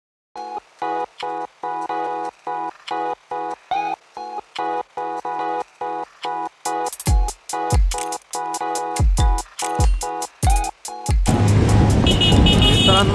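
Road traffic in Yerawada, Pune around evening rush hour, with a rapid series of repeated horn toots that grow louder and denser, ending in a wash of broadband roadway noise.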